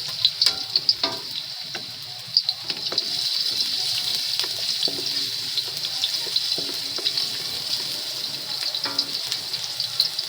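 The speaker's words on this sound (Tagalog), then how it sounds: "Maglagay na tayo ng luya. At ilagay na natin yung ating bawang." Ginger and garlic fry in hot cooking oil for chicken feet adobo, a bright continuous sizzle close up with occasional crackles and spatter and light stirring, with no talking.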